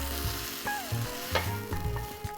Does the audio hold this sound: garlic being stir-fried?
yes